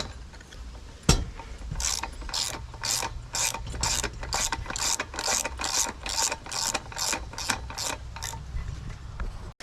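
Bolts on a Briggs & Stratton single-cylinder engine being run down snug with a ratchet wrench during a camshaft change, a quick regular series of close, crisp clicking strokes repeated about sixteen times with no talking.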